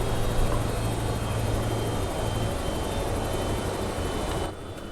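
Steady whirring AS350 B3e helicopter engine drone in X-Plane 11, with a low rotor hum, loud and continuous, dropping in level near the end as the engines are turned down.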